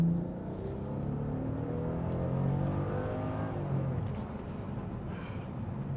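A 2005 Bentley engine revs steadily as the car accelerates through a pass, its drone climbing in pitch and growing a little rough near the top of the rev range, sustained and fairly even in loudness.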